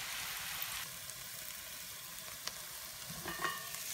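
Filling for savoury stuffed crêpes frying in a pan, a soft steady sizzle with faint crackles and a few small clicks of stirring, quiet and close with no talking.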